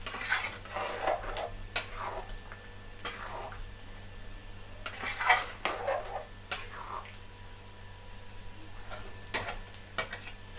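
Capsicum pieces fry quietly in a pan for chili chicken, with a soft, steady sizzle. A utensil stirs and scrapes against the pan in several separate strokes.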